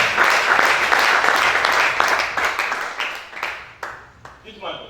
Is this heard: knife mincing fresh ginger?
no